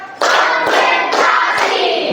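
A group claps in loud, rhythmic bursts, several rounds of hand clapping close by with brief pauses between them.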